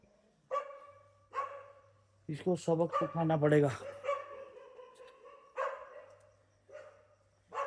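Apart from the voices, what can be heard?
dogs barking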